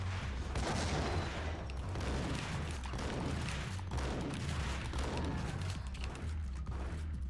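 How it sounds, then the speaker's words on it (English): Repeated gunshots ring out in Max Payne Remastered, a fairly faint volley of shots that pulses under a steady mix of game noise. "Gonna shoot this guy first, so the other guy throws the grenade."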